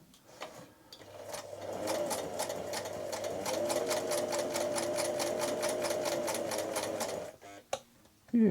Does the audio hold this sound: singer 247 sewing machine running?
yes